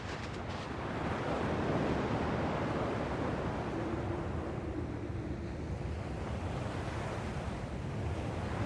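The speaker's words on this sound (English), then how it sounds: "At least the waves sound the same." Ocean waves washing ashore in the Kingdom Hearts II video game, a continuous rushing surf with a wind-like hiss, steady and moderately loud with no voices.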